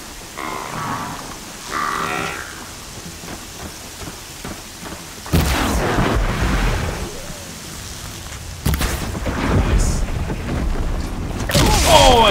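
A shot canister explodes in the video game Horizon Zero Dawn, loud booming blasts arriving in a few heavy bursts with rumbling roar between them and brief grunts earlier.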